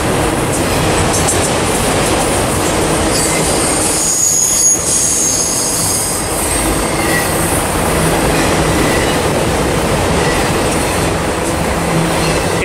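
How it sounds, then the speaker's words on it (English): Trains with NS locomotives pass each other near Barstow, California, their wheels squealing loudly and steadily on the rails over a constant roar of rolling stock, close by and without a break. "a few trains meeting each other"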